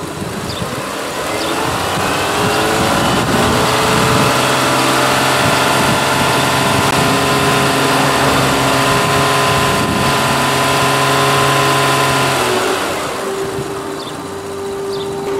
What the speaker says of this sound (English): it says increase RPM to 2500 revolutions per minute and keep it for 5 seconds